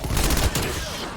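Gunfire in Call of Duty zombies on the Die Maschine map, a brief dense burst of shots up close, fading quickly into a low rumbling tail.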